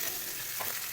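Chopped onions fry in hot oil in a pan, a soft steady sizzle with faint stirring scrapes, heard up close for a single moment.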